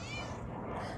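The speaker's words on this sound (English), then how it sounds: "I hear you, kitty." A cat meows, close and fairly faint, in one short call outdoors against low background noise.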